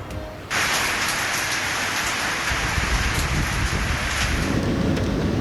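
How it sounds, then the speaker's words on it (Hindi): A heavy monsoon downpour starts abruptly, then pours steadily as a dense, loud hiss of rain hitting surfaces. It holds at full strength with no voices over it. "बारिशों का धुआंधार स्पेल जारी।"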